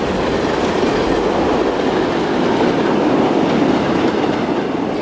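Train passing in the rail-simulation game Transport Fever 2, a steady loud rumble of wheels with faint clickety-clack rolling continuously, no voices.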